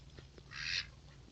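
A single duck gives one short, faint quack at a duck pond, with quiet ambient background and no talking.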